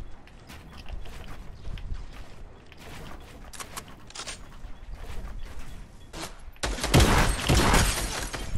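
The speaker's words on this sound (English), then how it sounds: "Oh, I'm getting shot at." Video game gunfire during a beach fight, scattered faint shots and mechanical clicks building to a louder burst of rapid fire near the end.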